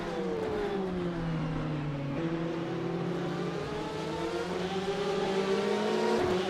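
Race cars streaming past on the Kyalami circuit in rFactor 2, engine notes rising and falling in a steady, continuous roar with layered revving from several cars close together, no talk.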